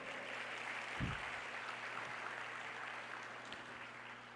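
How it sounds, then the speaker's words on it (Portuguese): A church congregation applauds continuously, a faint, broad, steady wash of clapping from a large hall with a low hum underneath and a soft thump near the start. "Você pode sentar e aplaudir o Senhor?"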